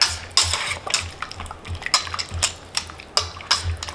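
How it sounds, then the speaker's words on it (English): A whisk clinks against a bowl while turning skirt steak in a balsamic marinade with aromatics, a series of sharp metallic taps and wet scrapes at an irregular rhythm, close and clear with no talking. "use the whisk here to turn them over"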